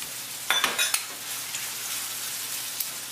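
Salted codfish being stirred into peppers in a frying pan, with a soft steady sizzle and a few brief clinks and scrapes of a utensil against the pan early on, then a quieter continuous fry.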